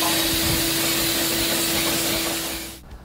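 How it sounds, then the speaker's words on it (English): A vacuum cleaner sucks liquid out of a wet car floor mat, a steady loud hiss and whoosh with a constant motor tone that cuts off abruptly near the end. "grab your vacuum cleaner and suck it all back up"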